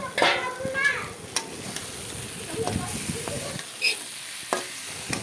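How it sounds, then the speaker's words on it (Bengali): Boal fish pieces cooking with spices, tomato and onion in a pan, giving a steady sizzle with scrapes and clinks of stirring close by, and light talk in the background. "মাছগুলো মশলার সাথে সব একসাথে দেওয়া হয়ে গেল"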